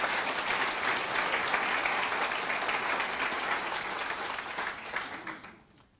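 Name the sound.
applause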